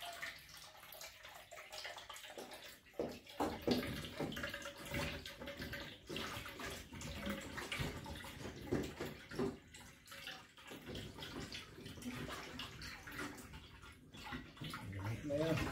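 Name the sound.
water draining from water dispenser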